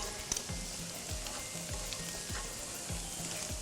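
Onion and garlic frying in a pan for kadhi pakora, a low, even sizzle with faint bubbling and a few quiet clicks near the start, steady and unaccompanied by voices.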